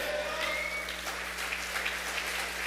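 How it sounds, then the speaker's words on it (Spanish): Church congregation clapping during a Spanish-language sermon at a paternity conference, steady sustained applause from a crowd in a large room with faint cheers mixed in. "Dan un aplauso fuerte."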